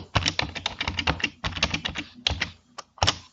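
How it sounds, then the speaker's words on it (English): Bursts of quick clicky keystrokes on a computer keyboard as a password is entered to log in, close and crisp, with short pauses between runs. "Click on the username and you're gonna have to type in your password to log in."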